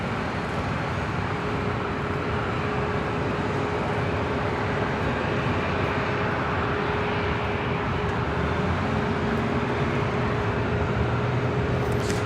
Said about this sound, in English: That is Delta Airlines Flight 2007 heading to New Orleans on a 737-900ER